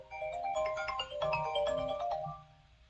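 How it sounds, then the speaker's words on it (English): A mobile phone ringtone plays a bright, repeating melodic tune, moderately loud and alone, then cuts off near the end. "guess my phone's ringing."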